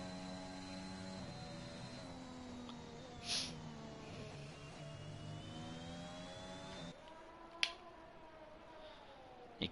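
Onboard engine of a white Red Bull race car in a sim-racing league round at Imola, a steady harmonic engine whine holding pitch with slight rises and dips, close and continuous, with a brief sharp click near the end.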